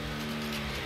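A car driving and revving in the Slaps and Beans game, a continuous steady engine drone with a sustained tonal hum throughout, close and even in loudness.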